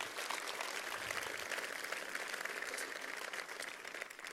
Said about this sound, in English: Maybe we can just give them a big round of applause